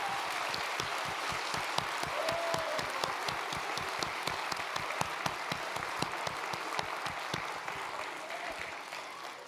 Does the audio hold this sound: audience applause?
yes